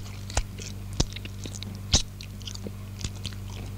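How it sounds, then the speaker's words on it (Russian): Chewing gum being chewed close to a microphone in a radio studio gives a few wet smacking bites and softer clicks over a steady low hum. "Это были секунды чавкини."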